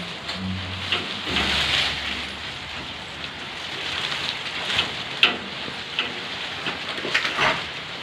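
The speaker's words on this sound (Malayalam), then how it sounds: "ഇപ്പം ഈ മഴ കാരണല്ലേട്ടാ" Rain patters steadily with scattered louder drips and taps, and a low rumble briefly underneath early on.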